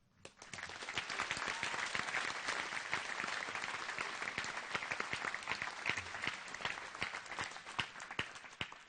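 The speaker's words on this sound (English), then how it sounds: "Seniors, let's give all these people a round of applause." Sustained applause from a graduation audience at a Guam high school ceremony, dense steady clapping that starts quickly and carries on for several seconds with a few louder claps standing out near the end.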